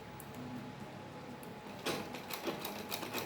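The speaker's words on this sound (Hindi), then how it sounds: "तो अब हम सिलाई लगाएंगे। दोनों को मिलाते हुए" Sewing machine stitching two pieces of salwar fabric together, a soft continuous mechanical whir that grows busier and louder partway through, fairly quiet with no talk.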